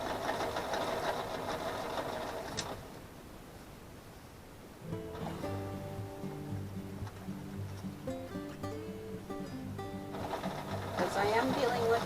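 A sewing machine fitted with a size 16 jeans needle stitches a denim patch, running in short bursts of rapid mechanical whirring, close and moderately loud, with pauses between.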